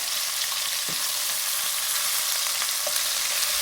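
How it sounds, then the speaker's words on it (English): Lamb pieces searing in a pan for stew, a steady close sizzle with a hissing wash and an occasional soft knock of movement, no voices. "Always sear in small batches, that is even to work with, and you get it perfectly browned up."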